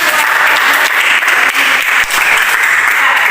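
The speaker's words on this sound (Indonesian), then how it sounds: "Oke, kita berikan tepuk tangan." A classroom of students applauds during a Christian religious education lesson, loud, dense clapping that runs without pause and fills the room close by.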